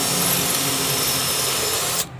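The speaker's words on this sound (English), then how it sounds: "now I'm gonna put my drill inside there." A power drill whirs steadily during chimney flashing installation, a dense continuous motor hum that cuts off abruptly near the end.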